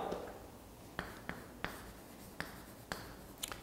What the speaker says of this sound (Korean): 써볼게요